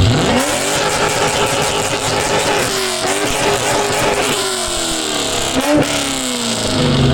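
A Chevrolet Camaro engine revs loudly and continuously at a car noise competition in Menomonie, Wisconsin, its pitch sweeping up and down through several throttle blips, with no talking.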